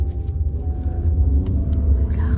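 A taxi being driven fast, heard from inside the car as a steady, heavy low rumble of engine and road noise that holds without a break throughout.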